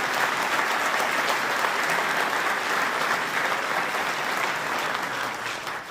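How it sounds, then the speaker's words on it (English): A crowd at the Leon County Sheriff's Office first responders appreciation event gives actor Bill Kelly a round of applause, dense continuous clapping that stays loud throughout and tapers slightly at the end. "Can we give actor Bill Kelly another big round of applause?"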